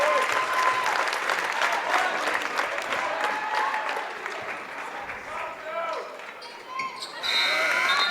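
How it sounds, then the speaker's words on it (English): High school basketball crowd in a Vermont Division 3 quarterfinal gym giving a standing ovation, loud sustained clapping and cheering that dips briefly then swells back up, with shouts and whistles mixed in. "Their crowd giving them a standing O"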